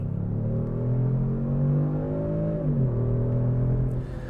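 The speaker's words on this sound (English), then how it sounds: "The sound it makes it's good. I can kind of tell that it seems amplified." A Kia Stinger GT's throaty engine drones steadily from inside the cabin, rising in pitch before a clear shift-like drop and then settling into a lower hum.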